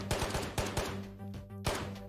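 Gunfire in the VR shooter Ghosts of Tabor: a handful of sharp, closely spaced shots fired in a quick rhythm over a steady mechanical hum, loud and close.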